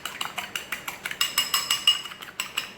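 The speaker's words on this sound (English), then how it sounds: "I usually use a fork because you want to whisk that quite quickly" Fork whisking quickly in a bowl, a rapid, even run of light metallic clicks and scrapes, close and fairly quiet, with no voices.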